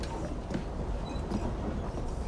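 Steady rumbling run of a steam-era locomotive train in the video game Assassin's Creed Syndicate, a continuous low roar with faint rattling, heard alone without talk.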